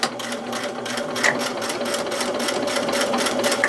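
A sewing machine stitches steadily through tough material while mending a dog's wheelchair, a close, continuous rapid whirring chatter throughout with no talk.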